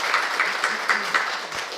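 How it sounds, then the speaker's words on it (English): An audience at a dealers meeting claps in a brief burst of applause, fairly close, with the clapping falling into a loose, pulsing rhythm. "A round of applause for everyone,"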